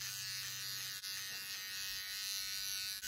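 A Gillette Styler 3-in-1 electric shaver trims steadily with a close, even electric buzz, briefly dipping twice, with no talking.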